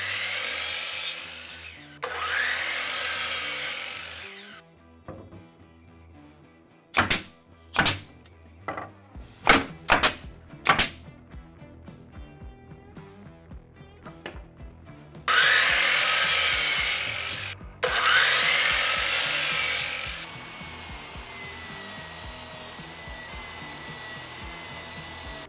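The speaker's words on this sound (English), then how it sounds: "let's go ahead and cut our face frame boards and we'll get those put on as well" Wooden face frame boards for a shoe storage cabinet being cut with a saw: two long broadband cutting passes, a run of sharp knocks and clatter, then two more steady cuts, with no talking.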